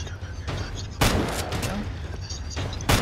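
Three gunshots fired in a horror video game, each a sharp loud bang spaced roughly a second apart, over a low background hum with no talking.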